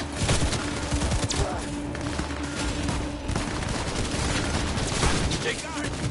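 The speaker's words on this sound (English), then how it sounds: "Shoot! Shoot!" Gunfire in Cyberpunk 2077 during a vehicle chase: rapid, continuous bursts of shots over a steady loud rumble, with voices in the background.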